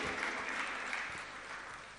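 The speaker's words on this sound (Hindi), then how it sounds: "एक बार जोरदार तालियां बजाओ।" An audience at a Jain nun's morning sermon claps loudly together, a dense steady patter of many hands that holds evenly and tapers slightly, with no voices over it.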